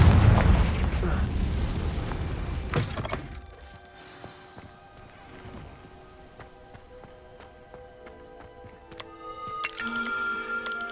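A booming blast from the Confringo curse in the video game Hogwarts Legacy opens with a heavy, rumbling explosion. The roar fades into crackling debris and quiet ambience over several seconds, followed by soft chimes.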